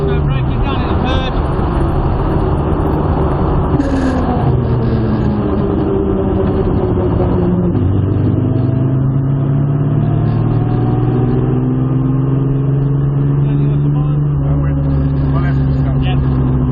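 Modified Jaguar E-type engine heard from inside the car, loud and continuous, with pitch sweeps as it downshifts and brakes into third gear; voices talk over it throughout.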